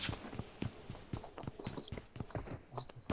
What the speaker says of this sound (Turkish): Ayak sesi var yanımızda.